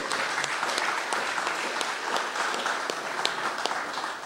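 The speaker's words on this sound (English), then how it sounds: "please join me in a well-deserved round of applause for our Minister of Sport, the Honourable Gl" An audience at a community forum in St. Peter's gives a steady round of applause, dense overlapping claps sustained throughout at moderate volume with no voices over them.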